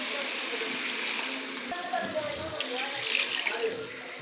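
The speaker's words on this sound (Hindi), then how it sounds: "और अब मैं टमाटर के बाद इसमें 2 प्याली पानी ऐड करूँगी।" Two cups of water are poured into a pot of qeema cooking with tomatoes and spices, producing a close, continuous splashing pour of moderate loudness.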